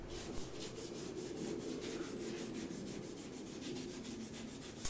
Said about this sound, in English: Use a rag with adhesive remover to clean the mating surface of the crankcase.